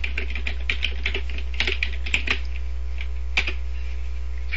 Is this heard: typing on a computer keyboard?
yes